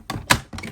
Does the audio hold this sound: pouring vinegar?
no